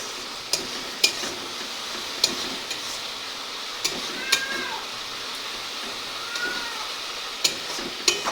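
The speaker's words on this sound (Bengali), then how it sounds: "তাই জন্য একটু মশলাটা ভালোভাবে কষিয়ে নেবে।" Chicken curry masala is fried and stirred in a pan: a soft sizzle runs underneath while sharp spatula clinks strike irregularly, about ten times, and a cat meows twice in the background.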